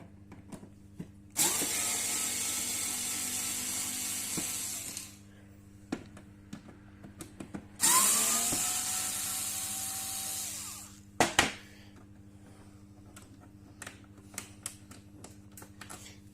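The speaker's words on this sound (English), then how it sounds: "Okay, so now remove the screws." Screws being driven out of a Vecton 400 UV light chassis with a power tool, two sustained whirring bursts of a few seconds each with a short rattle after, close and clear with no talk.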